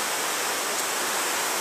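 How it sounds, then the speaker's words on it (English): Powerful rushing of the Marsyangdi river on the Annapurna trek toward Manang, a loud, steady broadband roar of fast whitewater heard close from a bridge, with no voices. "This is an amazing river."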